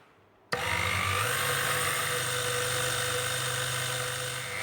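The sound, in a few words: blender blending spices, cumin seeds and salt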